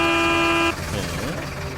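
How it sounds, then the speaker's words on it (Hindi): A cartoon truck horn blares on a village road at night, one loud, sustained honk that cuts off after under a second and leaves a low engine rumble behind. "तभी रास्ते में उसे ट्रक के हॉर्न"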